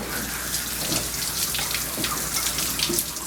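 Water running steadily from a tap as a Pitbull is rinsed during a bath, a constant splashing hiss close by with no talk.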